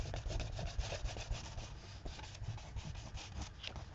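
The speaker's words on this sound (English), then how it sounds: "So I'm just going to scrape on some gesso." Gesso is scraped across a journal page in repeated rough rubbing strokes, close and fairly quiet, with no talking.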